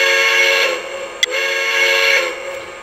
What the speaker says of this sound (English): I'll play the whistle.